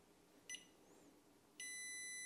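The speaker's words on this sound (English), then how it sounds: "I've got the bleep" A 12V 280Ah battery box gives a short electronic bleep when it is switched on, followed a moment later by a steady high tone that holds to the end. Both are faint, over a quiet room background.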